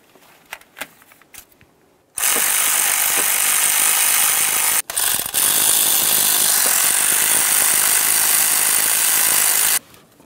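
Power tool snugging crankshaft position sensor bolts on a 1994-2002 Dodge Ram 2500: after a few small clicks, a loud, close, continuous whirring burst of about seven seconds with one brief break, then it stops abruptly.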